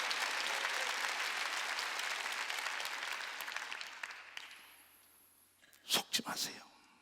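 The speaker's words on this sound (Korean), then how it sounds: "깨달은 사람만 박수 치세요." A church congregation at a Wednesday worship service bursts into sustained clapping that fills the room for several seconds, then tapers off into quiet before a few sharp, close claps and thumps near the end.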